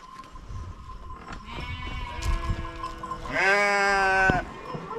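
Sheep bleat in a farm shed, first a drawn-out call, then a louder, strained bleat near the end, both close by, with scattered shuffling and rustling around them.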